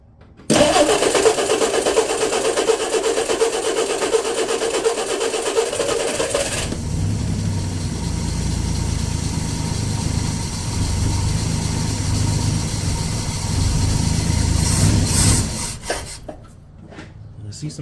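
A small engine fitted with a $74 Amazon carburetor catches after a starter crank, then settles into a loud, steady rough idle that runs for several seconds before cutting out and fading.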